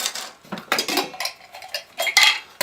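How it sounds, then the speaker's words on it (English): Plastic camping cutlery, a spoon, fork and knife, clatters and clicks together with a little cup from a canoe-trip cookware kit, in quick irregular taps and rattles close up, with no talking. "Plastic spoon, fork, knife."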